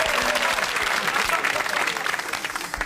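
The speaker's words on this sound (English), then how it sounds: "A round of applause for Switzerland's many borders." A studio audience claps loudly and steadily during a comedy variety show, the applause thinning slightly toward the end.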